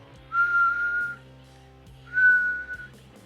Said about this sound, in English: I started whistling at him.